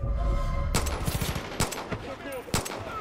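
Gunfire in Far Cry 5 cracks out in a rapid burst followed by a few sharp single shots, loud and close.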